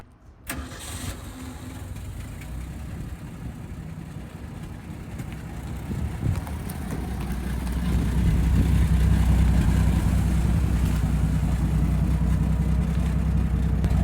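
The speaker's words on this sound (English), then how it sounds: "We're ready to take this thing for a drive" A 1966 Ford F350 truck, a field find just revived, starts up and idles roughly before its engine rises into a steadier, louder rumble as it pulls away, close by and with no talking.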